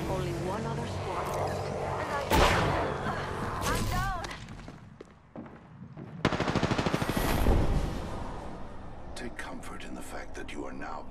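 Gunfire in an Apex Legends battle, bursts of rapid automatic shots and single cracks mixed with game effects and footsteps, loud and close, with voices speaking over the action.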